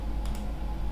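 A few quick clicks from typing an IP address on a computer keyboard during a remote desktop setup on Fedora Linux, brief and close over a steady low hum.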